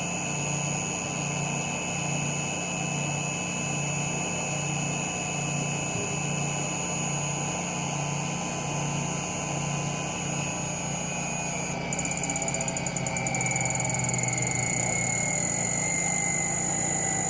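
A Brewer Science 100 spin coater running at 6000 RPM gives a steady high-pitched whine with a constant hum beneath, holding evenly throughout with a slight shift in tone near the end.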